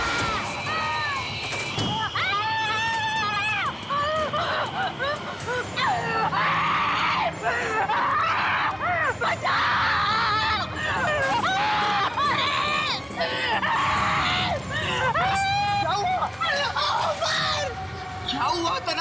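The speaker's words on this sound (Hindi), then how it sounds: "क्यों चिल्ला रहे हो?" In a horror drama scene, a person screams, with shrill, wavering cries rising repeatedly over a constant dense background of voices and commotion, loud and close throughout.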